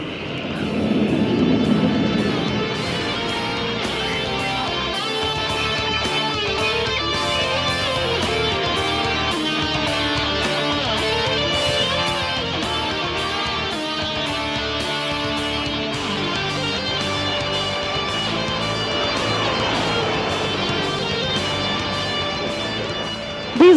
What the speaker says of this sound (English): आप देख सकते हैं सूर्य किरण 1, 2, 3 और 4 को आसमान की बुलंदियां छूते